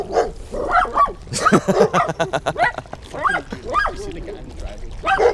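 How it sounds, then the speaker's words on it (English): A small dachshund barks and yips excitedly in quick bursts at two large German Shepherds while people talk over it. "My little wiener dog is barking at 2 of the biggest German Shepherds"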